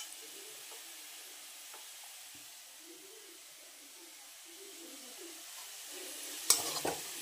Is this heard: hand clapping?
no